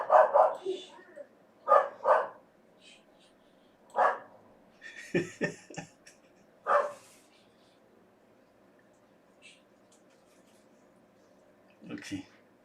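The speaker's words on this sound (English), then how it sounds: "Can you hear my dog?" A dog barks indoors in a few separate bursts, with short yips spaced over several seconds, fairly close and moderately loud, while faint household noise and some quiet talk sit underneath.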